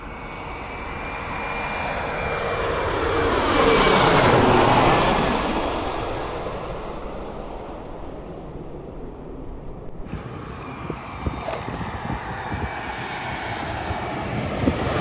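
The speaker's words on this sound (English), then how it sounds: "told you it's a cool place to watch planes" A jet airliner passes near the main airport runway in Washington, D.C., its engine roar swelling to a loud peak midway then fading into a lingering distant rumble.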